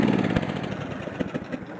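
A riding lawn mower engine runs steadily on a highway, a rough mid-pitched drone with slight fluctuations heard close up outdoors.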